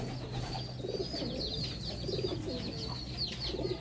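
Pigeons cooing in a loft, soft repeated low coos in a rhythmic pattern at moderate distance, with faint chirps and background noise.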